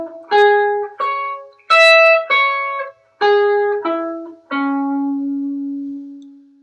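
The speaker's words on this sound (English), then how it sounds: "And the arpeggio will sound like this." A guitar picks a minor arpeggio in fifth position, seven clean separate notes ringing one after another, the final low note held and left to sustain.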